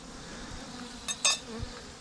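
A couple of honey bees buzzing faintly, passing briefly close by over quiet outdoor background noise.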